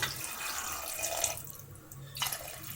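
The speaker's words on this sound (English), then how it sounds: "Now pour water into the cooker." Water splashes and pours into a pressure cooker, a steady rush that briefly thins out and then surges again toward the end.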